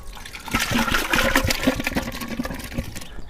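Liquid being poured out while making Cahors-style red wine: a steady, close splashing and gurgling pour with broadband wash throughout, easing off at the very end.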